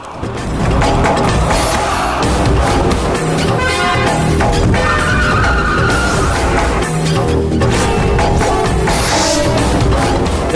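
Vehicles race and overtake during a car chase in a Tamil TV serial, a loud continuous roar of engines and road noise with skidding, dense and unbroken throughout.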